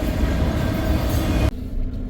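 A CSX freight train without a DPU labors up a ruling-grade hill, a steady rumbling roll of rail cars heard alone at moderate volume, cutting off abruptly near the end before the low noise resumes.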